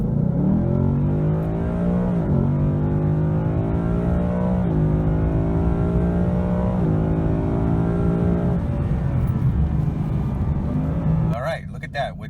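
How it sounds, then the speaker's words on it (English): A 2018 Ford Mustang GT with a 5.0 V8 and 10R80 automatic drives along, its loud steady engine drone rising and falling through several gear changes before easing off near the end. "You just drive around in the car until the tank runs down to 0"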